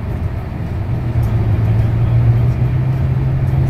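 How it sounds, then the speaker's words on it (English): A Ford F-150 pickup truck climbs its first serious mountain grade in the Colorado Rockies, its engine a steady, loud low drone with a rising tonal hum as the turbos spool, heard from inside the cab without talk. "See how this 150 does. Spooling some turbos."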